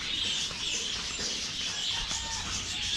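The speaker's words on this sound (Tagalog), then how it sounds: "Ang aking mga ibon." Pet birds chirping close by outdoors, a busy continuous twittering over a low background rumble, with no voices.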